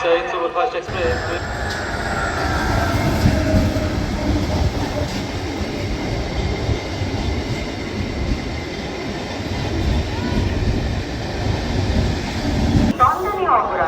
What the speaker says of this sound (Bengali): এইটি আরেক ধরনের মেমু লোকাল ট্রেন যেটি স্বল্প দূরত্বে বা স্বল্প পাল্লায় চলে ট্রেনটি Bardhaman Rampurhat MEMU passenger train